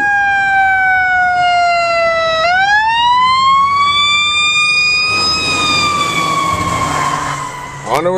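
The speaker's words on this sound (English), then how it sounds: "Fire truck is trying to come through" Fire truck siren wailing close by in late-night traffic, a loud continuous tone sweeping down, then up and holding, then dipping, with a low vehicle rumble beneath.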